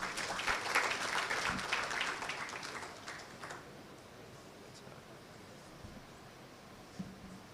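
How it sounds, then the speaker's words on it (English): Conference audience clapping loudly at first, then thinning and fading into a quieter room with scattered small knocks and shuffles toward the end. "A round of applause for them."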